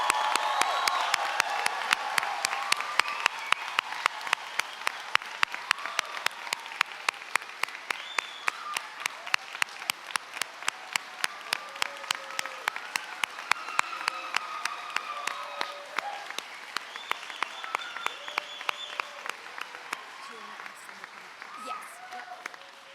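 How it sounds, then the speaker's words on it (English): An audience claps steadily in a large hall at a physician assistant white coat ceremony, a dense sustained round of applause with occasional whoops that slowly thins toward the end. "join me in a round of applause and congratulate your class of"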